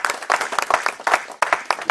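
A church congregation claps and cheers for their pastor, a dense burst of rhythmic applause that surges, briefly dips, then swells again, with voices mixed in.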